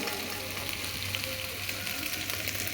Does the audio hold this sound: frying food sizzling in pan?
yes